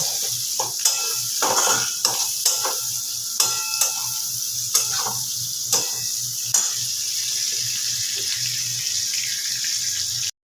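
Cashew nuts, char magaj melon seeds and whole garam masala spices being dry-fried in a pan, with a steady background hiss and repeated sharp scraping knocks of a spatula stirring, then a quieter stretch of continuous sizzling.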